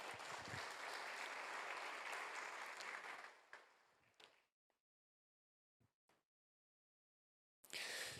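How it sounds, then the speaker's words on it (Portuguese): An audience in a church setting applauds loudly for about four seconds, then the clapping fades out, a few isolated claps follow, and a fresh burst of applause starts near the end. "Dê uma salva de palmas para ele."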